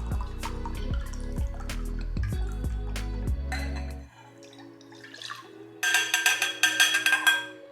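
Unseasoned rice vinegar poured into a measuring cup; after a stretch of tonal background music, a close, steady liquid splash and trickle rises for a couple of seconds near the end.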